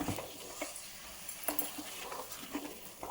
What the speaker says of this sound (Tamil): கிண்டும்போது பாருங்கள், நான் 1/4 மணி நேரமாக இந்த 1 கப்பு களியை கிண்டுறேன்.